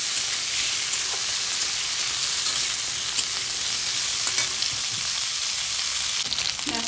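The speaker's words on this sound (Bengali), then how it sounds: "ডাঁটা আলুটা আমি ভেজে নেব" Drumstick stalks and potato pieces frying in a pan give a steady, close sizzle with constant crackling that carries evenly from start to end with no voices.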